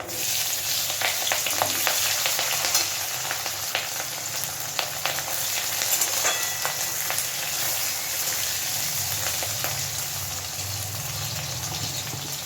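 Chopped onion and green chilli frying in hot oil for a potato curry with curry leaves, a steady, close crackling sizzle throughout with occasional stirring clicks and no talking.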